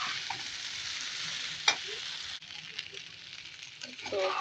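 Noodles tossed and stirred in a hot pan, with a constant bright sizzle and intermittent scraping and clinking of the utensil, close up.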